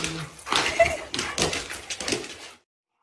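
A pet dog whimpering close by in a series of soft, strained whines and snuffles lasting a couple of seconds, then falling silent.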